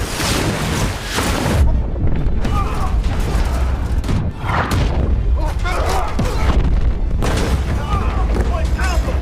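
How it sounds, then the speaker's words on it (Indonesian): Rocket explosion aboard the submarine Arkansas in the film Hunter Killer: loud, deep booming blasts and rumbling roar with crackling debris, recurring across the scene, with a voice speaking over it. "sebelum roket itu meledak"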